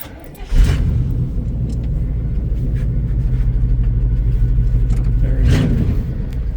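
A 1979 Chevy wrecker engine with a new coil fires up with a sudden thump, then settles into a loud, steady, deep rumbling idle close by for several seconds before a brief surge near the end.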